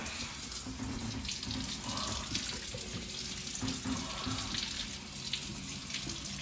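Water runs steadily from a sink faucet into the basin, a continuous close, moderately quiet splashing rush with no voices.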